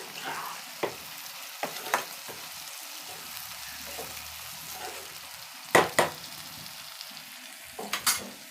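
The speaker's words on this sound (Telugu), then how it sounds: "ఇలా ఉల్లిపాయ పచ్చిమిరపకాయ మగ్గుతూ ఉంటే" Onions and green chillies softening in a pan over a low flame give a steady, quiet sizzle, with occasional louder stirring scrapes and clinks near the end.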